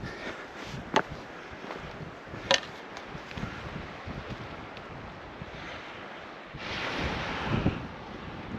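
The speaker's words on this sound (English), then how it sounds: "Got a little surf here, a little surf noise with water coming in." Gentle ocean surf washes onto the shore of Great Wass Island in Downeast Maine in November, soft waves breaking and receding under wind noise, with a few sharp knocks and a surge near the end.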